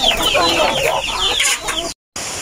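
Chickens clucking and squawking on a small farm, a close, loud jumble of overlapping calls from a flock, briefly cut to silence near the end before the noise resumes.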